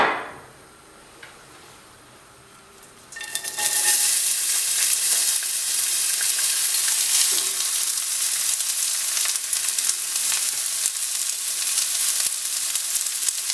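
Chopped onion for a lentil dish hits hot oil and erupts into a loud, steady frying sizzle after a few seconds of near silence, then crackles on evenly to the end.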